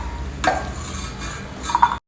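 Fried cashews and raisins being lifted out of ghee in a pan, a couple of brief metal spoon scrapes and clinks against the pan over a faint background hiss, close and quiet.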